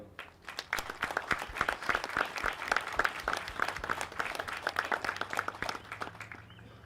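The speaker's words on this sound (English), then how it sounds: "please join me in a round of applause for Cadet Colonel Benjamin Danko." Audience applause at a spring pass-and-review military cadet awards ceremony, a crowd clapping steadily at moderate distance, the claps sharp and evenly dense before gradually thinning near the end.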